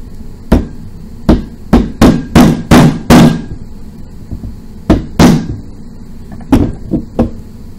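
A small drill bit taps a pin into a Taurus PT111 G2 pistol trigger, giving a series of sharp, close metallic clicks and knocks in uneven bursts with quiet pauses between them.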